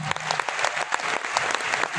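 Applause from an audience at a Hindi comedy poetry recital at a festival in Kurukshetra, a dense, steady clatter of many hands clapping at close range, carrying on for the whole two seconds.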